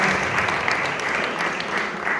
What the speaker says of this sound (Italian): Un applauso anche loro